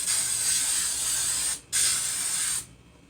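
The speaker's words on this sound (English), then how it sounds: "Spray them just kind of lightly" Cooking spray is applied lightly in two close, steady hissing bursts, each lasting over a second, with a short gap between them and then quiet.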